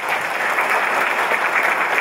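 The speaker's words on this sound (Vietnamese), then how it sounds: "vỗ tay cho sư phụ" Steady applause from a seated audience at a stock-investing seminar session, continuous and fairly loud clapping throughout with no talk over it.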